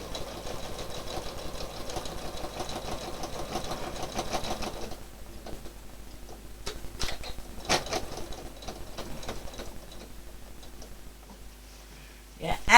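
A domestic sewing machine stitches in the ditch along a quilt seam, a rapid steady mechanical ticking for several seconds that then slows to sparse clicks and taps, close up, with someone speaking over it.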